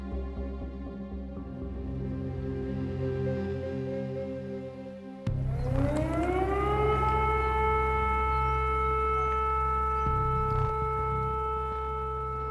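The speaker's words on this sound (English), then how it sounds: "an air siren has just gone off" An air raid siren sounds at Chernobyl during wartime, first a steady drone, then a second siren cutting in and rising into a loud, sustained wail that holds for the remainder.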